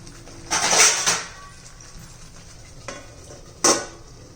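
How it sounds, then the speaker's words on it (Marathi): A metal lid comes off a pot of methi bhaji with a clattering clank, followed by a softer scrape and a final sharp clink, brief metallic sounds over a quiet kitchen. "हे पहा मी झाकण काढून घेतलेलं आहे"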